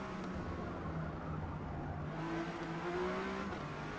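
A Porsche 911 GT1 race car engine drones steadily in Forza Motorsport, an R-class race at Spa, with a sustained tone that rises in pitch as it accelerates, loud and continuous, without talk.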